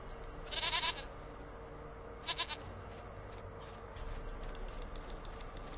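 Goat bleats in The Witcher 3, two short bursts over a steady game ambience, the first near 0.6 seconds and the second near 2.3 seconds, with no talk.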